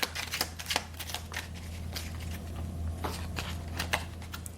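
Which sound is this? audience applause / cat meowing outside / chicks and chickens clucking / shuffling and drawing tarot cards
shuffling and drawing tarot cards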